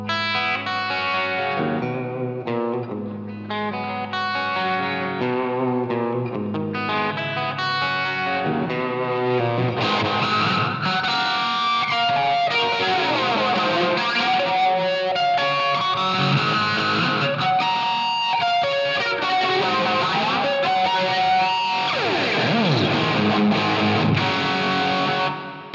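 Electric guitar played through a Line 6 Helix with a distorted tone, chorus and echo, ringing sustained notes and fast runs, loud and continuous for the whole stretch without speech.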